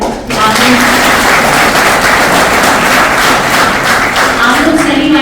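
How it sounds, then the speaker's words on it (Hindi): Loud, sustained audience applause fills the hall at an institute's inauguration of a CNC training and production lab, a dense continuous clapping that starts abruptly and holds at full strength throughout. "आप लोग जोरदार तालियां बजाएं"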